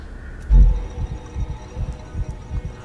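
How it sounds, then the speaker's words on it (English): A heartbeat in the horror video game Call of Cthulhu, with low muffled thumps that repeat in a steady rhythm over a faint background hum. "Hear my heartbeat? That means I'm going nuts."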